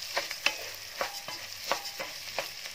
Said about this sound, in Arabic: هبتدي بقى انزل بالرز اهو. الرز ده انا غسلاه ومنشفاه خالص